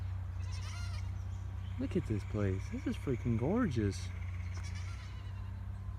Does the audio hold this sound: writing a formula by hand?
no